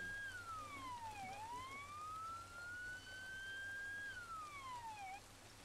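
A police siren in the video game Arma 3 wails in slow rising and falling sweeps, about two full cycles, fairly faint over a low steady rumble.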